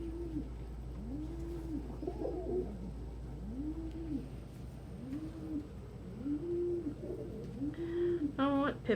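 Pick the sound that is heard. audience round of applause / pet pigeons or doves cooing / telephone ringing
pet pigeons or doves cooing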